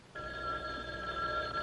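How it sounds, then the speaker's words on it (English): A telephone bell rings loudly and steadily at close range, one continuous ring starting abruptly after a short silence, with no one speaking. "Phone. Where's the phone?"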